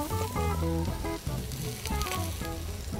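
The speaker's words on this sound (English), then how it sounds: "We add some eggplant. Once the eggplant is cooking, we're gonna add the bok choy." Eggplant, bok choy, peppers and zucchini sizzle and fry in a pan, a steady hiss that runs under louder tonal music throughout.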